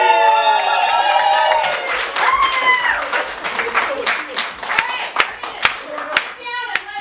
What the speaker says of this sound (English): let's get a warm round of applause for the Thursday team!